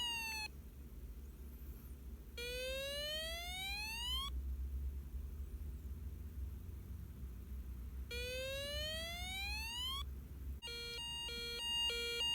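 A Snap Circuits electronic fire engine siren sounds in two long rising sweeps, each climbing steadily for about two seconds, before a different stepped, warbling electronic tone starts up at the end; loud and close over a low background hum, with no talking.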